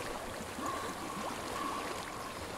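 Flowing water in the game Hellblade: Senua's Sacrifice, a soft, steady rush like a stream that fills the whole stretch evenly, faint and unbroken, with a thin tonal whistle drifting above it.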